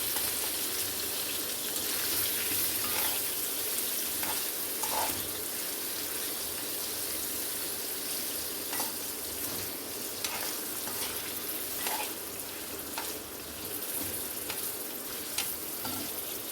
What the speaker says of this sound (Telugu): పన్నీర్ అన్నీ ఫ్రై అయ్యాక ఒక బౌల్లోకి తీసేసుకున్నాను